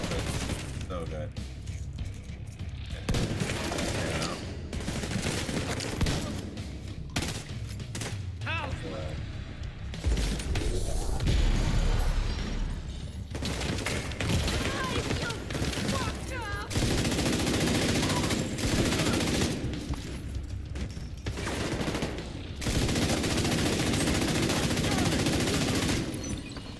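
Gunfire in The Division 2 video game, rapid automatic bursts and fusillades with booms running through, loud and persistent, with a person talking over it.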